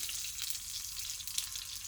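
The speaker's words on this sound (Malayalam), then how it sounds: "നമ്മുടെ കടുക് പൊട്ടിക്കഴിയാണ്" Mustard seeds splutter and pop in hot oil in a pan being readied for a toddy-shop prawn curry, a steady close sizzle with scattered crackles and no voices.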